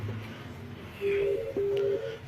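A VoIP desk phone on an office PBX dials an extension, giving two long, steady electronic tones with a short gap between them, clear and close, with faint background hum and no talk.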